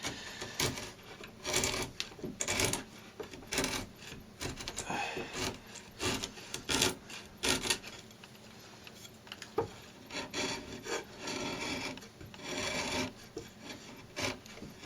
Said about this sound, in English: Pushing your chisel downwards.